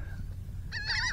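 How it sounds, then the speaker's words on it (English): Geese or similar waterbirds honk over fishing water on a speckled trout outing, a few short nasal calls rising near the end over a steady low rumble of wind or engine. "I found these birds."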